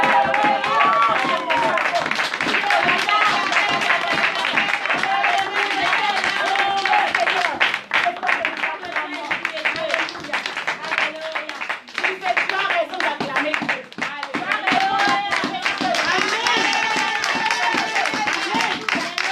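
Church congregation clapping and cheering to acclaim the Lord, dense rhythmic hand claps and shouts filling the room throughout, with voices calling out over the applause.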